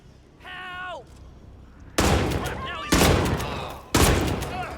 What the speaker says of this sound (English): This is the Maximalist shotgun.